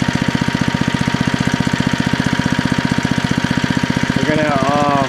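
A 1960s Lil Indian minibike's small engine runs on fresh oil, idling in a steady rapid thump that stays loud and close throughout, with a voice speaking briefly over it near the end.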